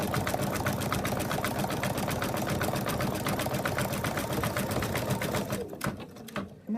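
An embroidery machine stitches down the leg of a teddy bear design, hammering out a rapid, steady needle rhythm up close before slowing and stopping near the end.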